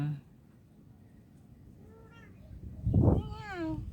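A small kitten in a garden gives a couple of short, high meows close by, with soft voices murmuring nearby.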